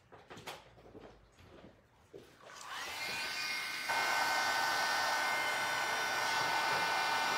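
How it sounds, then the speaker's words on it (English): A heat gun switches on and blows steadily during an art journaling session, a loud continuous airy roar that starts a few seconds in after quiet handling and grows stronger midway, running on without pause. "My heat gun has miraculously appeared in my hand."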